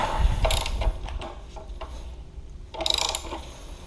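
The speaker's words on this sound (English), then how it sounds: "Now we're going to finish tightening the axle." A ratchet wrench tightens the axle on a Gen 1 Z motorcycle held on a rear stand, with two bursts of quick close clicking separated by a quieter stretch of handling noise.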